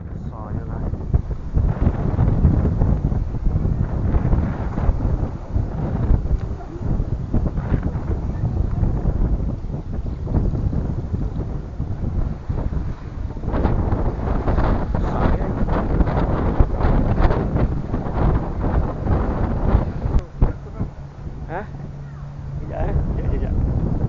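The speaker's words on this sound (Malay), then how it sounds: "Kuat angin." A strong wind roars steadily across a boat near Langkawi, loud and continuous with gusty swells, and a voice speaks briefly over the buffeting.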